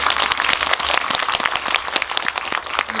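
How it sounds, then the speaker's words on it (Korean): Audience at a Korean film talk event in a Dolby cinema hall applauds the moderator, a dense, steady burst of many hands clapping close and loud with no talk over it. "오늘 수고해주신 먼저 주성철 편집장님께 박수 한번 부탁드립니다"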